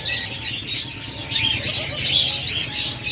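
Pet doves or cockatiels, a big-sized pied male among breeding pairs, give continuous chirping and calling, with several birds overlapping at close range and no pauses.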